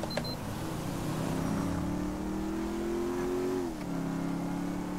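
A car engine in GTA V fitted with a swapped engine sound, revving in a steady sustained drone that climbs slightly in pitch before dropping back near the end.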